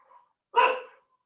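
A single dog bark, fairly close and loud, sounds once after a near-silent pause, with no other sounds around it.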